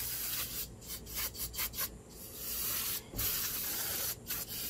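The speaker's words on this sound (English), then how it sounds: "just use some brake clean" Repeated short hissing sprays of brake cleaner on a 2013 Audi A4 front brake bracket in quick bursts, with brief pauses between, close and fairly loud, followed by a longer steady spray.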